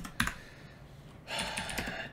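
Typing code on a computer keyboard: a couple of sharp key clicks, a short pause, then a quick burst of close, crisp keystrokes.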